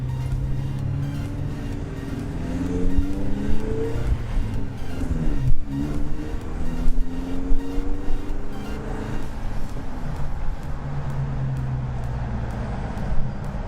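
A 2.7L four-cylinder Toyota Tacoma pickup with a Magnaflow muffler revs and drones steadily with a low exhaust rumble, pitch rising and falling as it accelerates, fairly loud and close.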